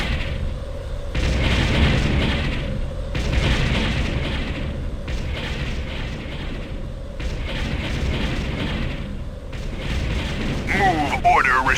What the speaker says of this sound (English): Enemy structure destroyed.